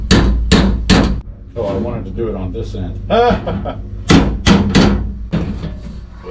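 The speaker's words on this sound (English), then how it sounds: "I think we got to hammer this down a little." Hammer blows on the rusty floor pan of a 1969 Camaro, several sharp loud strikes in bursts, close up, with people talking and chuckling between and over them.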